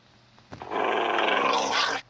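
A low, rumbling Minecraft dog growl rises abruptly and holds steady for about a second and a half before cutting off, close and fairly loud.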